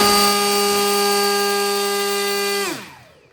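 An RC motor spins a 4-inch (100 mm) EDF turbine fan on a thrust and RPM test rig, a loud, steady high-pitched whine rich in harmonics that holds constant, then drops sharply in pitch and fades as it spools down near the end.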